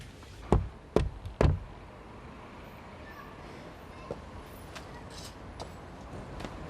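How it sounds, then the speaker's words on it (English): Three sharp, loud knocks on a door in quick succession near the start, then a quiet indoor room tone with a few faint taps. "Knock again."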